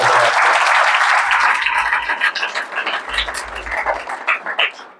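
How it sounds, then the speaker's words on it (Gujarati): A church congregation claps loudly and steadily in praise during a Gujarati worship service, a dense wash of applause that holds strong at first and then thins into uneven bursts. "પ્રભુના માટે જોરદાર તાળી પાડે."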